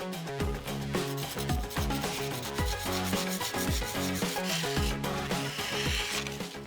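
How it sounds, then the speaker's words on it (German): Hardened filler on a ceramic washbasin being lightly sanded by hand, a continuous close, soft rubbing and scraping with a steady back-and-forth rhythm, quiet and without speech. "Das könnt ihr jetzt noch mal leicht anschleifen."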